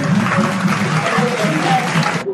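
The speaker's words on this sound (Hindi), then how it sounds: "इनके लिए तालियां हो जाए।" A school farewell audience breaks into loud, steady applause, a short burst of crowd clapping that cuts off abruptly.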